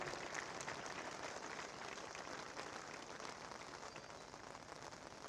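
Faint, distant applause from spectators at a CRPF passing out parade in Gwalior, a steady, hiss-like patter of many hands that continues unbroken and sounds almost like rain.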